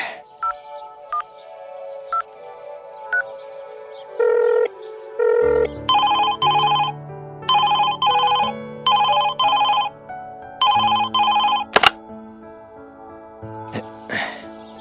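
A telephone rings in an animated Bengali detective cartoon: a few soft dialing tones, then repeated loud paired ringtone bursts with short gaps between them, close and clear, with no talk over them.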